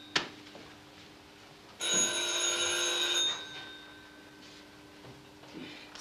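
A telephone bell rings in a single loud burst of about one and a half seconds in a quiet room, followed by faint background stillness, with no talking during the ring.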